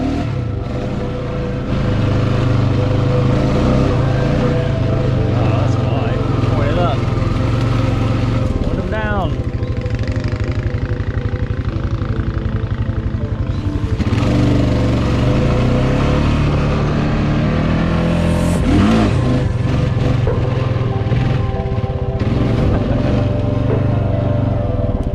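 A four-wheeler ATV engine drones loudly and steadily on a night ride, rising and falling slightly with throttle, while people talk over it.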